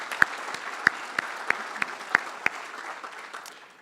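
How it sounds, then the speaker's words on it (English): Audience applause at an annual meeting honoring elected officials in attendance, a steady wash of clapping with a few sharp louder claps standing out, fading toward the end. "Please give them a nice round of applause."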